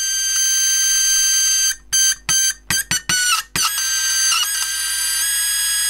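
Morse code machine with a spark gap oscillator powered by a 9-volt battery, giving a steady high buzzing tone broken by a quick run of keyed on-off pulses before resuming, close and alone.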